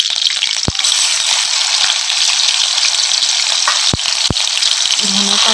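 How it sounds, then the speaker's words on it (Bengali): Green chillies and tomato hit hot oil already crackling with cumin seeds, giving a steady close-up sizzle with a few sharp clicks and a short utensil knock near the end, with no one talking. "গরম হয়ে গেছে, জিরে ফোড়ন দিয়ে দিয়েছি, এবারে দিয়ে দেবো কাঁচা লঙ্কা, তেলের উপরে দিলাম"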